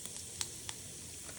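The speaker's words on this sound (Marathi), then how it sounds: "तेल तापल्यानंतर आपण त्यात टाकणार आहे थोडं जिरं" Cumin seeds sizzling in hot oil for a bitter gourd sabji, a soft continuous hiss with a couple of sharp little pops, close but fairly quiet, no talking.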